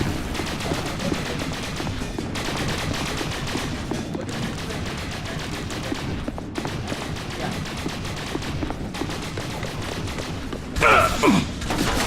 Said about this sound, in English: now they're shooting you